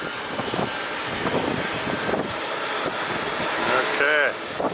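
A fixed-wing airliner drones loudly on approach, landing in a crosswind at San Diego International Airport, a steady engine roar with a rising whine near the end as a voice talks over it.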